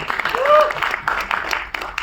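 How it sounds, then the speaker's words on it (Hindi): Enthusiastic applause from the audience at a Punjabi film trailer event, a dense patter of clapping over crowd noise with a short voice cutting through partway. "एक बार इनके लिए जोरदार तालियां हो जाए"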